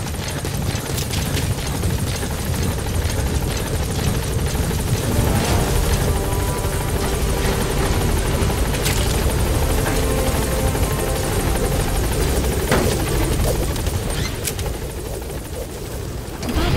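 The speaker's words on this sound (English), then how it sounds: "Support helicopter has arrived." A support helicopter arrives at a landing zone in the video game Metal Gear Solid V: The Phantom Pain, its rotor thumping loud and continuous with a swelling whine and a few sharp clicks, no one speaking.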